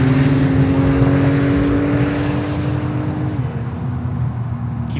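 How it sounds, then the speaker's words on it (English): A 2021 Porsche 911 Turbo S in sport mode pulls hard under acceleration with its exhaust opening up, a loud, close engine tone rising and then shifting as it gears up, with no talk over it. "the car just comes a little bit more alive, and the exhaust opens up"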